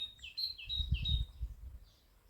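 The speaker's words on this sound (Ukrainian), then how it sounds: "А вам чутно, як пташки співають?" A few thin, high bird chirps sing out nearby over a faint low rumble, brief and light in a quiet outdoor setting.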